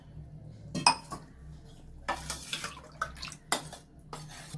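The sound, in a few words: pouring water into urad dal porridge mixture and stirring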